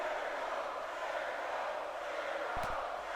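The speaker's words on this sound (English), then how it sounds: "This crowd here in Houston trying to will Jericho on" A large video game wrestling arena crowd in Houston roars in a steady, distant wash of cheering, with a short thump near the end.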